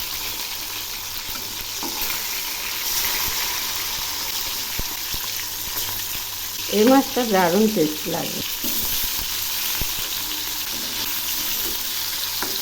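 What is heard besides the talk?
aar fish frying after being flipped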